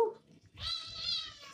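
A cat lets out one long, drawn-out meow, close and fairly loud, after a brief quiet start, with faint background sound from a Fortnite gaming session.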